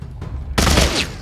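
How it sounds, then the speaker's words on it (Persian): A burst of gunfire in The Walking Dead: Saints and Sinners video game erupts loudly after a quieter stretch of low rumble, a dense, sustained volley lasting about half a second. "کاش که تیراندازی نمی کردم"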